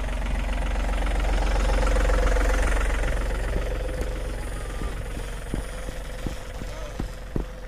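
An all-electric dirt bike motor runs at its slowest speed setting, giving a steady low whirring drone with rhythmic pulsing, fairly loud and close, easing slightly toward the end.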